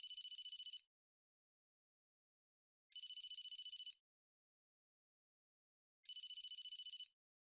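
Telephone ringing in the game Emio – The Smiling Man: three separate bursts of bright electronic trilling, each about a second long, spaced by a few seconds of silence.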